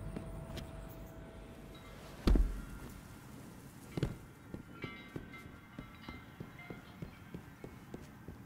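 A train passes with a dull low rumble, one heavy thud early on, then a steady run of evenly spaced wheel clacks that continue to the end at moderate loudness.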